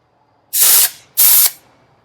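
A pneumatic gun fastens wire on a DuraWeld gabion basket, firing two loud, sharp bursts of air hiss about half a second apart, with no talking.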